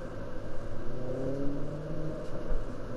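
The B-11 Strikeforce vehicle's engine in a video game growls and revs in rising, wavering pitch, a loud continuous motor drone with no talking.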